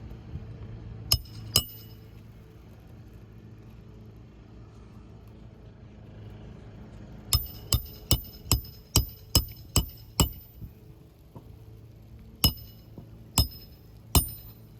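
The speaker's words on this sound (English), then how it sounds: "when nailing this new shingle in, granulars are falling everywhere" Nails are hammered into a new roof shingle in sharp, ringing metallic strikes, two early blows and then a rapid run of about eight, followed by a few more, all close and loud over a low outdoor hum.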